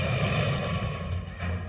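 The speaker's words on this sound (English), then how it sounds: "The Black Hawks rush towards Mount Hood." Black Hawk military helicopters flying toward Mount Hood, a loud, steady rotor and engine roar with a rapid low thumping throughout.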